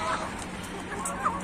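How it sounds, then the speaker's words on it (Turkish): A rooster clucks in short, scattered calls over a steady background hum, fairly close and moderately loud. "Horoz horoz."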